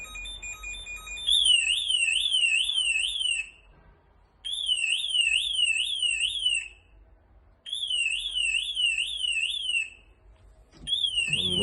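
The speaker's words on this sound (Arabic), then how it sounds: "لو حد حاول يزق الباب، يفتح الباب، بيبدأ يطلع طبعا انذار صوت جامد جدا." Apartment door intrusion alarm blaring very loud in repeated bursts of rapidly warbling electronic siren tones, stopping briefly between cycles, close and with no talking.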